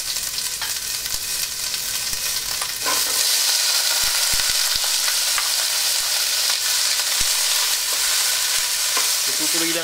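Onion and celery sauté in a pan for shrimp pancit bihon, a steady loud sizzle with scraping stir strokes and a few clacks of the utensil against the pan, getting a little louder partway through.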